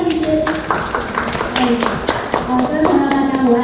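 Audience applause with a few sharp claps rising over a continuous patter, welcoming a doctor at an indoor air purifier product launch event; a voice can be heard over the clapping.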